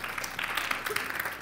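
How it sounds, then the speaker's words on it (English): Audience applause during a talk on education and student feedback, a brief scattered round of clapping at moderate distance, fairly even and soft. "So go ahead and applaud that"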